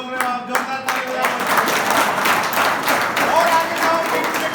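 Audience at a scouts event clapping loudly, a dense sustained wave of applause with a voice speaking over it at the start.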